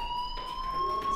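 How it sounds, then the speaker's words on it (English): A steady electronic fire alarm rings in Life is Strange, holding sustained high tones without a break at a moderately loud, close level. "do you hear that fire alarm?"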